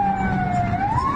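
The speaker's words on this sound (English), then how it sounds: "As you can already hear, there are already sirens going on" Emergency sirens wail in the aftermath of a hotel bombing in Damascus, Syria, a steady rising and falling tone carrying continuously through the whole moment over a low rumble of traffic.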